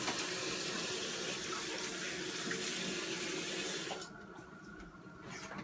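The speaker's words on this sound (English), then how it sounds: "Probably good to wash your hands when you're done." Water runs steadily from a tap into a sink for hand washing, a constant close rushing flow that cuts off near the end and leaves a quieter tail.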